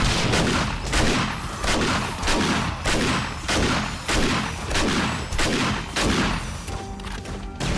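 Rockets fire during a max-gamestage horde night in the 7 Days to Die End Z mod: a rapid, evenly spaced barrage of loud booming blasts, about one every half second, pounding close by.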